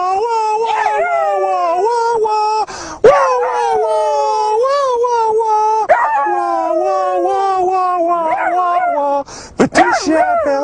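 A dachshund howls in long, wavering, sung tones, as if singing along, loud and close, with two short breaks between drawn-out phrases.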